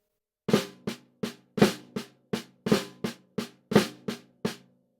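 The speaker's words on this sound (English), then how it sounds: "The flam accent is a triplet bass rudiment." Flam accent rudiment played on a snare drum, twelve crisp close strokes in a steady triplet rhythm, each with a slight doubled grace-note attack and stronger accented hits, alone without talk.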